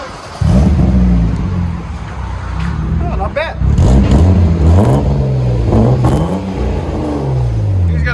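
A 1995 BMW 325i with an inline-six and DC Sport exhaust revs repeatedly with a deep, rising and falling engine note, loud and close, while people talk over it.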